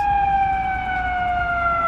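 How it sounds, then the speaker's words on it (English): An approaching ambulance sounds a steady wailing siren outside a hospital emergency room entrance on a Sunday morning. The tone is loud and clear and slowly falls in pitch as it holds continuously. "We have an ambulance coming here."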